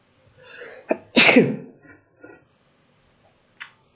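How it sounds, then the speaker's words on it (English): A single sharp, close sneeze preceded by a short breathy build-up, followed by a few faint sniffs and small clicks in an otherwise quiet room. "Looking up helps you sneeze."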